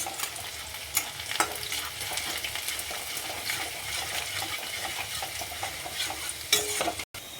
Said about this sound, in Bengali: এই ধরনের সিমলা মির্চিটা ভাজতে হবে